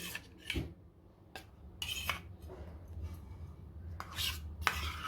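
Curd being mixed into warm milk in a vessel, a spoon clinking and scraping against the sides in a few separate strokes, close but quiet, with soft stirring between the clinks and no talking.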